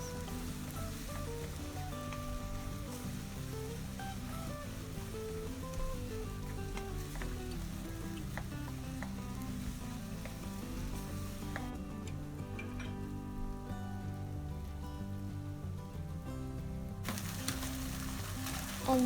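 Spicy devilled tofu sauce sizzles steadily in a hot pan while being stirred, a continuous loud frying hiss with occasional scraping clicks and no talking.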